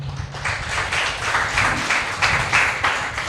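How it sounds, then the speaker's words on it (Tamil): Audience applause at a monthly church prayer meeting in Puducherry, a steady wash of clapping from a crowd that swells in soft waves over a few seconds with no voices on top. "எல்லோரும் உங்களுக்கு நீங்களே ஒரு கைத்தட்டு கொடுங்களேன் பார்க்கலாம்."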